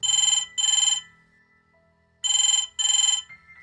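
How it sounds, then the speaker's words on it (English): A telephone rings in a room with two pairs of bright electronic trills separated by a short quiet gap, loud and close. "the telephone kept in the room rang"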